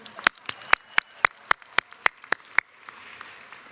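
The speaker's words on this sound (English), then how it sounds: "Let's clap for the sunshine." Crisp, evenly spaced hand claps ring out in a rhythmic beat at a gathering in Washington's National Cathedral, about eleven sharp claps in a row before a soft murmur of the crowd takes over.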